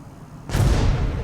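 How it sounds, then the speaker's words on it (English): A drone blows up in a video game: a sudden loud boom after half a second of quiet, followed by a broad rumbling tail. "Now our drone is exploding."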